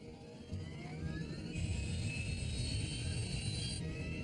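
Airliner jet engines roar on a takeoff roll, a steady broadband rumble that swells after the first half second and holds loud, with a thin high whine rising above it midway.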